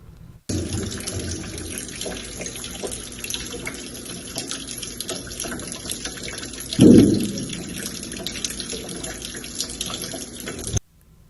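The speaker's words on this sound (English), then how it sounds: "A video of another classroom shows water raining from the ceiling into a bucket." Water leaking from a classroom ceiling into a bucket, a steady close patter and trickle of falling water that swells into a louder splash midway before settling back to a continuous flow.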